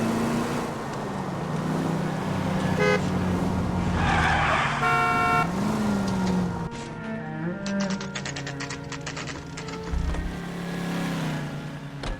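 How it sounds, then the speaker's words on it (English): A car in the video game LA Noire pulls out of a driveway, its engine rumbling steadily with a rising whine and shifting revs throughout. "That's the car, Cole. Just pulling out of the drive."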